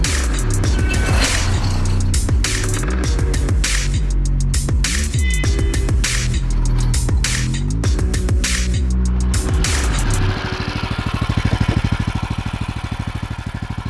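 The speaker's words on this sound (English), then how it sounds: "Not bad for a first freaking test drive." A freshly built car on its first test drive gives off a loud, close engine roar. The revs swing up and down before it settles into a steady, rough drone, with no voices heard.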